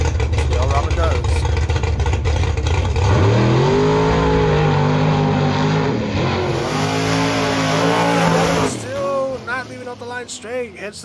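A gas bracket drag racing car roars down the strip at Maui Raceway Park, engine pitch climbing loud and close before the driver lifts off and it coasts, with an announcer talking over it.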